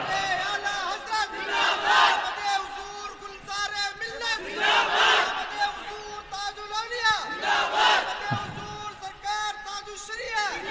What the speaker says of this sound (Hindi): जरा अपनी आवाजों के साथ नारा लगाएं।